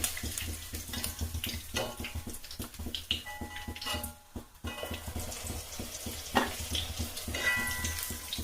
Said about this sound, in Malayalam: ഇപ്പൊ നമ്മുടെ ചിക്കൻ ഏകദേശം ഫ്രൈ ആയി വന്നിട്ടുണ്ട്.